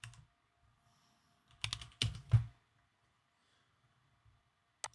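Bursts of typing on a computer keyboard at a workstation, with a brief flurry of keystrokes at the start, a denser cluster of clicks in the middle and a single key tap at the end, separated by quiet gaps.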